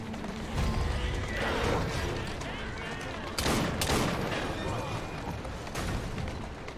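Galloping hoofbeats mixed with a horse's whinny and busy game noise in Assassin's Creed Syndicate, with a voice shouting briefly in the background.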